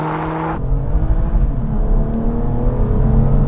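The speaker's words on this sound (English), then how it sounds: "Oh, the launch on this is brutal. The RS3 got off the line well as well." Several drag cars, including an Audi RS3, launch hard off the line, their engines roaring loud and close in a dense, rising rumble that builds steadily without pause.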